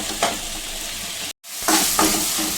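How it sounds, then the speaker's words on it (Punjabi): Potatoes frying in masala in a pan while being stirred, a close steady sizzle with a couple of scraping strokes, briefly cut to silence midway before the sizzle returns. "ਅਸੀਂ ਮਸਾਲੇ ਦੇ ਵਿੱਚ ਆਲੂ ਨੂੰ ਚੰਗੀ ਤਰ੍ਹਾਂ ਭੁੰਨ ਲਿੱਤਾ"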